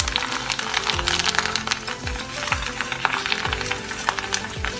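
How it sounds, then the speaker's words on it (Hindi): Food frying in hot oil for Ramadan cooking gives a busy, continuous sizzle with crackling pops close by and no talking. "तो इसी तरह से हम फ्राई कर लेंगे इनको"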